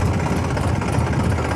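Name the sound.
Massey Ferguson 7250 tractor engine running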